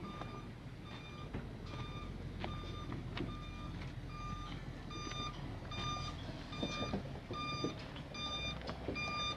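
A truck arrives at a fish farm, its reversing alarm beeping in a steady repeated rhythm over a low, rumbling engine drone that continues throughout.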